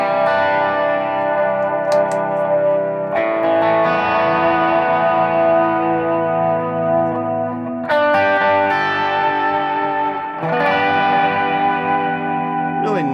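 PRS electric guitar played clean and chimey through delay and reverb, ringing strummed chords and arpeggios that swirl and sustain, with fresh attacks every few seconds, loud and close with no talking.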